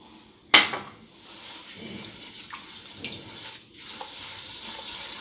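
Sugar being worked together with butter, oil and vanilla in a bowl for Moroccan Ashura cookies, with a sharp clink of utensil on dish near the start followed by steady soft scraping and stirring, close and moderately quiet, with no talking.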